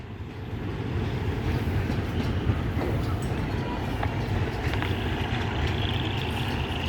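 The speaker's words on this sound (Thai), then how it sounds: "ก็เป็นขบวนสั้นๆนะรถชานเมือง" A short Thai suburban commuter train leaving Bang Sue Junction rumbles steadily along the tracks, a continuous low roar with faint rattling and clatter throughout, no voices.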